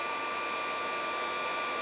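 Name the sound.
spindle DC motor running at about 5,000 RPM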